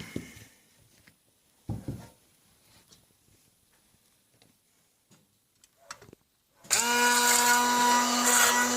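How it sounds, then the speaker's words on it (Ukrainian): After a stretch of quiet kitchen clatter and a few knocks, a blender suddenly starts up and whirs loudly and steadily to the end, blending herring mixture with cottage cheese. "Беремо блендер і все це перебиваємо."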